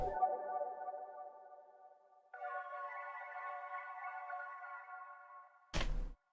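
Ambient accent and texture sounds for a sad beat loop, a soft, airy sustained synth tone that fades, then a brighter layered pad swells in and holds before a short loud hit at the end.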